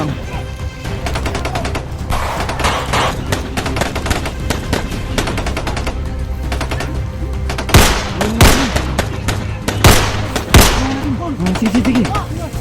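Video game gunfire crackles in rapid bursts and sharp single shots with occasional booms, over a steady game background while a voice talks throughout.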